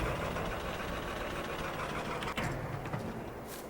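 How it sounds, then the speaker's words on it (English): A small vintage Farmall tractor engine idles in Farming Simulator 22, a steady low rumble that holds evenly for the whole stretch, with a brief knock partway through and no talking over it. "while I do have this nice vintage little Farmall tractor, it's a little small and it's a little slow"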